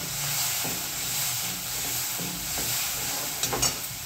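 Okra fries in oil over a low gas flame, giving a steady close hiss and sizzle with a few sharper spits and pops near the end.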